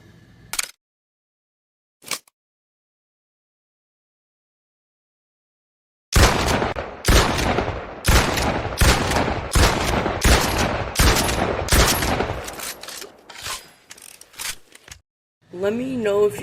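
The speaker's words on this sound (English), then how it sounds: "This is the number 1 best sounding gun ever in Fortnite." Gunfire from a weapon in the video game Fortnite: two isolated shots, a long silence, then a fast, loud run of repeated close shots that thins into a few scattered blasts.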